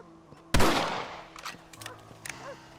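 A single loud rifle shot cracks out in a video game, then its echo decays. Quieter handling clicks and small sounds follow in the background.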